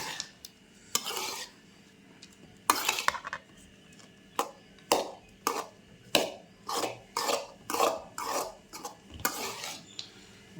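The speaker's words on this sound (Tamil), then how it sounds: "சூப்பராக கிண்டியாச்சு" A spoon scrapes and stirs amla (gooseberry) rice in a metal pot, giving a dozen or so distinct scraping strokes in an irregular rhythm, close and fairly quiet, with no talk.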